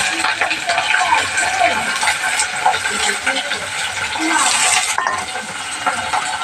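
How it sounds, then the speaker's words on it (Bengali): Potatoes frying in a home kitchen pan for a breakfast dish, a steady broadband sizzle running throughout with occasional soft stirring and utensil clinks, fairly close and even in level. "আলুটা ভেজে নিচ্ছি"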